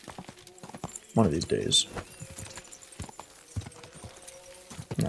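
Horse hooves clop steadily while a rider travels at a moderate pace in Kingdom Come: Deliverance II, with someone speaking over the hoofbeats and a louder burst of movement partway through.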